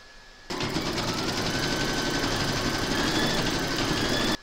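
An embroidery sewing machine stitches out a letter for a no-sew baby burp cloth, starting abruptly and running as a steady, loud, fast mechanical hum with rapid needle rattle throughout, no voices.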